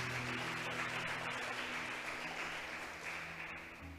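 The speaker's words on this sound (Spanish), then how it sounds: "Vamos a aplaudirle al Señor, hermano." Church congregation applauding after a sermon, a steady wash of clapping with a sustained low musical hum underneath, tapering slightly near the end.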